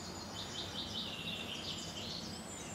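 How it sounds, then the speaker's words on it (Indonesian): Faint, high bird chirps repeat steadily in a forest over a constant hiss of background noise, with no voices. "Ada suara burung."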